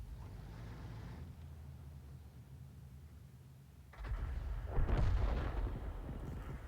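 Artillery shell from an SU-8 self-propelled gun landing in a tank game: a quiet low rumble, then a sudden heavy boom that swells into a noisy blast and rolls on for a couple of seconds.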